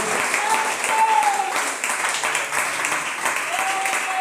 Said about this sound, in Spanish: Denle el aplauso en esta mañana al Rey de Reyes.